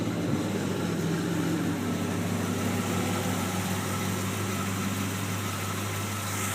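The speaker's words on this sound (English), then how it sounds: "It's nice and smooth. It's got a great idle to it." A stock 1956 Chevy Bel Air with its original cam idles steadily and smoothly up close, a continuous low, even rumble that holds without variation throughout.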